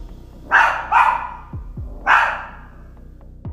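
A dog barks three times, loud and close, the first two barks quick together and the third after a short pause, with small clicks and knocks in the quiet room between.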